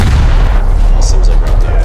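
Gunfire rattling against a vehicle under attack in the War Thunder video game, loud and dense, a continuous stream of impacts and booms with faint hits layered over it.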